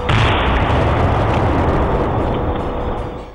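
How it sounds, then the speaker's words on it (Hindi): A powerful, continuous explosive roar from a PETN blast with broad rumbling noise holds for about three seconds before fading away. "दूसरा धमाका"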